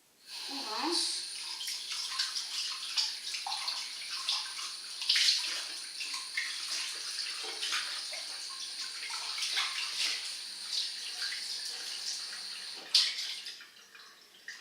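Running tap water rinses a dwarf angora rabbit's cage after cleaning with vinegar, a steady close splashing stream with small clatters and a brief louder knock near the end.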